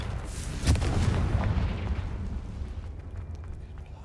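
A Confringo explosion spell in the video game Hogwarts Legacy, one deep booming blast with a rumbling low tail that slowly fades over a few seconds.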